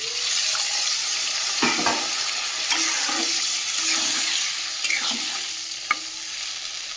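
Pork fries with onion, ginger and garlic as water is added to the pan, giving a steady sizzle with scraping stirs and a few sharp clinks throughout.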